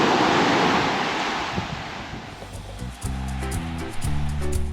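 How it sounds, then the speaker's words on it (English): Ocean waves roll onto a beach on the eastside of Cozumel, a loud rushing wash of surf with wind buffeting the microphone, the roar easing slightly midway before surging again. "watching the waves roll in"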